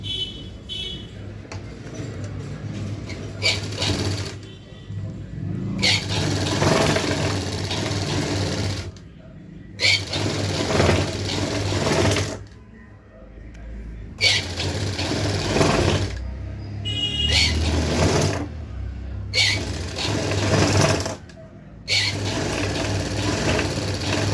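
Sewing machine stitching the lining of a designer blouse, running in repeated bursts of rapid mechanical whirring with short pauses between runs, close up and without talk.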